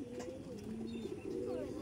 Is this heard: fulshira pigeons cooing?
yes